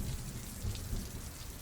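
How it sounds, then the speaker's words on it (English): Steady rain and rolling thunder of a thunderstorm echo through empty orphanage halls, a continuous wash of rainfall with low rumbling swells, alone and fairly quiet. "nothing but the echo of thunder and rain could be heard in the halls"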